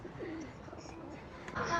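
Pigeons cooing near a railway station in Japan, low soft coos repeating over steady outdoor background noise, with a brief louder disturbance near the end.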